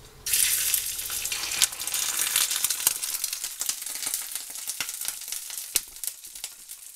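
Salmon hits a scorching hot pan and sizzles loudly and steadily, a bright hissing fry close by with a few sharp pops and crackles, no voices over it.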